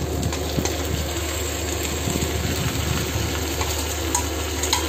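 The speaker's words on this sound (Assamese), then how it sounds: "বেঙেনাখিনি দি পেলাই এনেকৈ লৰাম কিছু সময় লৰাম" Eggplant sizzling steadily in a hot pan while being stirred, a loud continuous frying hiss with soft scraping and clinks from the stirring, under a low background hum.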